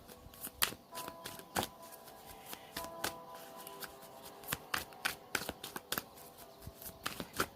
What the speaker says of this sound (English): Sorry, I'm dropping cards.